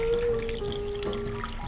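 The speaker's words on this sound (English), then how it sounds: "We're just gonna pour a little bit in." Watermelon vodka punch poured into a glass over ice, a steady trickling stream with faint clinks, close and fairly quiet with no talking.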